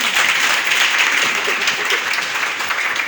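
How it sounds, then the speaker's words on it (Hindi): An audience at a business seminar breaks into applause, a dense, loud wash of many hands clapping that carries on steadily throughout. "एक बार ताली अपने लिए हो जाए।"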